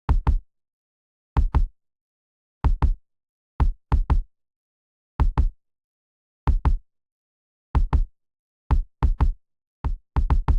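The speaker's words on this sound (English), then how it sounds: "I used a normal kick loop that I exported" A kick drum loop from the MPC Beats plugin plays alone: deep, punchy thumps landing in quick pairs, repeating at a steady, even tempo with silence between each pair.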